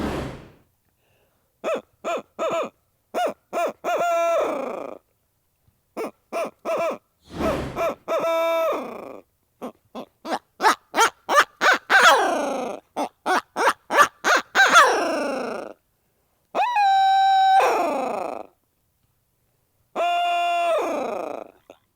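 A FlexTone owl hooter call is blown without its baffle in a series of hoots, some short and clipped, others quick rapid runs, with a few drawn-out calls between pauses.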